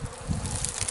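Honeybees, wasps and yellow jackets robbing an outdoor beehive make a close, continuous buzzing hum over breezy wind and rustle, steady in level across the moment.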